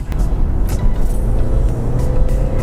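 A BMW 530e M Sport plug-in hybrid, with petrol engine and electric motor making 252 horsepower, accelerates hard toward 100 km/h. A steady, muffled low rumble of engine and road noise fills the cabin.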